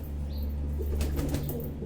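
Competition racing pigeons flap their wings in a brief, close flurry, with a steady low hum running beneath the fluttering.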